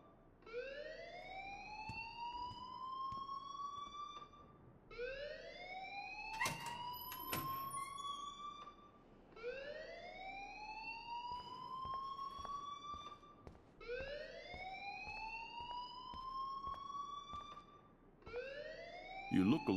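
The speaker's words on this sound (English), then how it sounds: "please turn off that alarm since that's your job" A rising, wailing alarm in the Life is Strange game sweeps upward in repeated cycles about every five seconds, steady and prominent, with occasional voices beneath it.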